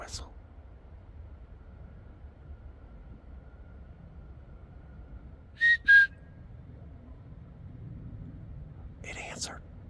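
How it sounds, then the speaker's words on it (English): In the dark woods at a night campsite, an answering whistle comes from someone else as two brief, sharp notes in quick succession, standing out from a hushed background where someone whispers nearby. "It answered. It wasn't my whistle, it was a different one."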